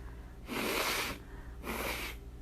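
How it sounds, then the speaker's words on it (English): Two forceful nasal blows, each about half a second, separated by a short pause, close and fairly soft. "I'm going to blow my nose"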